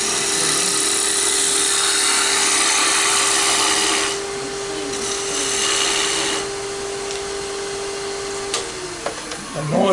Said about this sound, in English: The noise that it's making, that's the wood flexing a little bit.